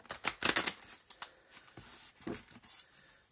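Oracle cards being shuffled by hand: a run of crisp papery riffles and flicks in irregular bursts, close and moderately quiet, with no talking.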